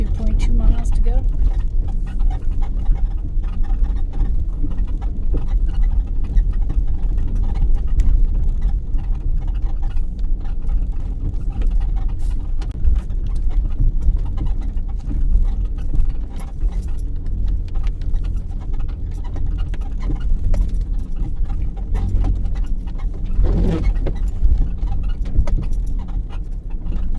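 A vehicle creeping slowly up a rough mountain road with light throttle, a low continuous engine rumble with bumps and rattles throughout, heard up close from inside.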